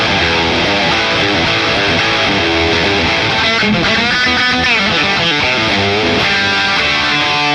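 Distorted electric guitar through a Boss Katana 100 amp on its record setting without the phaser, loud and dense, with continuous riffing chords and sustained notes and no talking.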